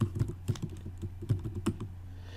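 Quick keystrokes on a computer keyboard, a short run of close, soft clicks with a low hum underneath and no speech.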